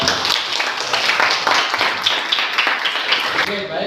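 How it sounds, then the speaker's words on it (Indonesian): A classroom of students claps for a presenting group at an Islamic senior high school (MA), a dense, steady patter of many hands that stays loud throughout and tapers slightly at the very end. "tepuk tangan untuk kelompok"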